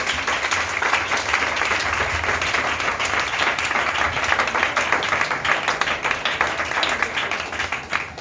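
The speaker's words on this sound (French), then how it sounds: "Acclamez le Seigneur." A church congregation applauds at a Pentecost service, dense sustained clapping from many people filling the room at a steady loud level throughout.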